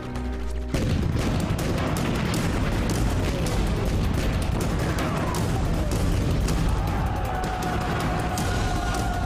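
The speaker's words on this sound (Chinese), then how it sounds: "大帅的队伍已经开始打炮了" In a period TV war drama, heavy artillery fire and gunfire rumble continuously after a brief quiet start, with dense booming blasts and crackling shots filling the scene and no talking.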